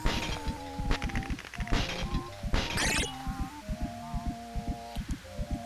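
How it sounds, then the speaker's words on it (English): Dishes thrown and smashing in a Halloween video game, a series of sharp crashes and knocks spread across the scene over eerie tonal game music and ambience. "let's see if we can throw some dishes at her"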